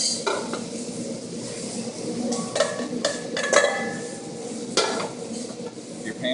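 Sesame sauce and ginger sizzle in a pan while a utensil stirs and scrapes against it, a soft frying hiss broken by several clinks and knocks.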